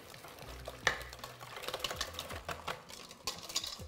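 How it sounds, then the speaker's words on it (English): A whisk beats crepe batter of egg, sugar, melted butter and a pinch of salt in a bowl, giving close, quick rhythmic clicks and scrapes that run steadily throughout with a sharper knock near the start. "And then melted butter, just a pinch of salt. Give it a good whisk."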